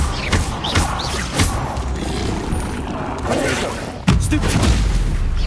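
Spell impacts in Hogwarts Legacy crack out as a few heavy booms and thuds, one sharp hit near the start and a louder blast about four seconds in, over a busy game background.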